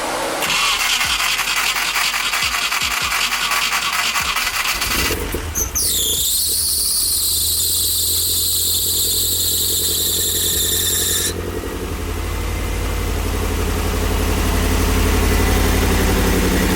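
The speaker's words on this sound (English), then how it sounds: "So we're gonna try to start it now." A Nissan 240SX S13 engine cranks briefly, catches with a high squealing whine that lasts several seconds, then settles into a steady, loud, close idle with no talking.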